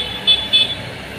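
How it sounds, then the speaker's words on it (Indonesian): A car horn on a slippery, muddy road gives two short, close honks in quick succession over faint traffic rumble. "Oke, akhirnya mobil pertama lewat"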